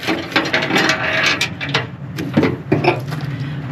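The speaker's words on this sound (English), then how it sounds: "it's a 10mm socket wrench" A 10mm socket wrench ratchets while driving bolts to mount a part on a 2023 Ford Maverick: quick bursts of clicking pawl rattles, close and fairly loud, with short pauses between strokes.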